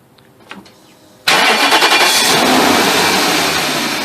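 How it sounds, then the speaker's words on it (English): BMW 740 being repaired for oil leaks and timing chain guides: a brief crank, then the engine catches abruptly and settles into a loud, steady idle close by. "So let me go and start the car."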